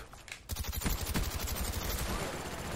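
Rapid automatic gunfire from the shooter video game Call of Duty: Black Ops, opening with a faint crackle, then loud, steady bursts of close shots rattling in quick succession for over two seconds.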